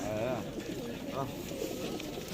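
Pigeons cooing at the Edirnekapı bird market, a few low rolling coos close by amid market bustle and people talking.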